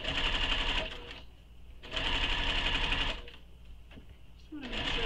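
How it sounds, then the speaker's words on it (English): A sewing machine back stitching along the top edge of a sling bag runs in three short bursts of fast, steady mechanical whirring separated by pauses, close and clear. "I'm going to do my top edge first and back stitch over there."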